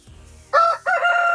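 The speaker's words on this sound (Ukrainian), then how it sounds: "Півник, давай голос." A rooster crows loudly and close by, one long harmonic call broken by a brief pause, with faint low clucking before it.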